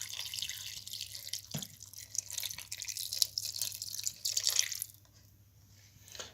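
Water is poured into a pot of dried stuffed peppers, giving a soft, uneven splashing and trickling that fades to a quiet hiss near the end, faint and close with no talking.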